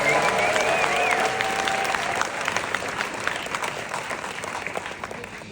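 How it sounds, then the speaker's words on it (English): Audience clapping at an award event, a dense, steady round of applause that holds strong, then gradually thins and softens toward the end, with a faint whistle or cheer rising near the start. "These claps are good"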